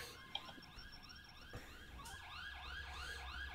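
Fire truck siren in the firefighting game EmergeNYC, a rapid repeating wail rising in sweeps and growing steadier, mid-distance, with a couple of sharp clicks at the start.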